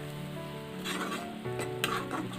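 Chicken topping for a rice bowl sizzles and crackles in a hot pan, with stirring scrapes and brief bursts of louder spitting.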